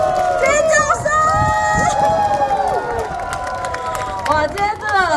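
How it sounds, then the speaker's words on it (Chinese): Packed crowd at Chengcing Lake Baseball Stadium for a Uni-Lions home game against the CTBC Brothers, cheering, screaming and applauding loudly and continuously, with shrill whistles or noisemakers rising above the dense roar. "请大家一起用掌声加尖叫欢迎我们的林玉平以及高志高，掌声欢迎"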